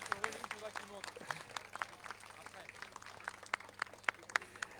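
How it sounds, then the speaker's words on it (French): Audience applause at the Ultra Marin 2021 awards ceremony for the Raid, Trail and Ronde des Douaniers races, a thin, uneven patter of scattered claps with sharp individual hand claps standing out, continuing steadily throughout at moderate distance. "Allez, on les applaudit franchement."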